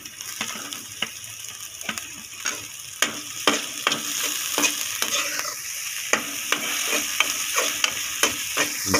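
Finely chopped bell pepper frying in a pan, with a steady sizzle and repeated sharp scrapes and clicks of stirring at a quick, irregular rhythm, heard up close with no talking.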